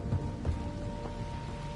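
Steady rain downpour in the video game Mass Effect: Andromeda, a continuous hiss with a low rumble beneath and no talking, filling the short stretch at a moderate level.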